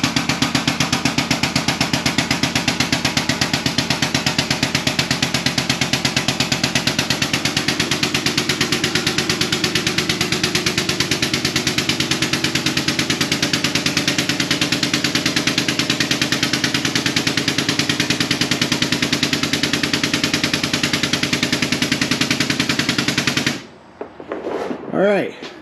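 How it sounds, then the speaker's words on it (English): A motorcycle lift raises a Kawasaki Vulcan 800 with a loud, rapid mechanical pulsing that runs steadily for over twenty seconds, then cuts off, followed by a few brief knocks. "now we're going to try to lift it up with this Vulcan 800 on the lift"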